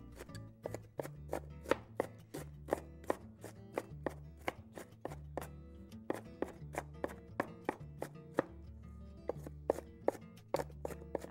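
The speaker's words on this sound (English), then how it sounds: "Okay, just give that another chop." Rapid knife chops on a cutting board at home, a quick irregular series of crisp wooden thuds repeating without pause, fairly close and clear with no talking.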